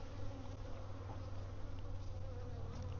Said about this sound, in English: Emerging bees right here.